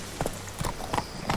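Horse hooves clopping in The Witcher 3, a few quick, close hoofbeats in an uneven trotting rhythm over a brief stretch, without talk.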